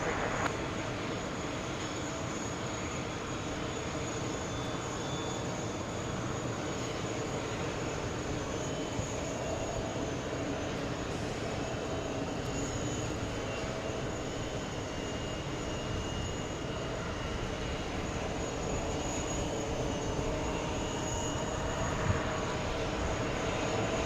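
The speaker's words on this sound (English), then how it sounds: "We have Delta 767 coming in. We have Swiss coming in." Jet airliners, including a Delta 767 and a Swiss jet, approach JFK with a sustained, moderately distant engine roar that drones evenly throughout, while people talk now and then over it.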